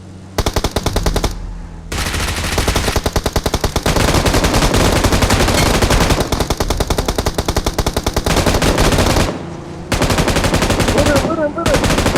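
Sustained bursts of automatic machine gun fire, loud and close, rattling almost continuously for about twelve seconds with only brief pauses, while shouting voices break through near the end.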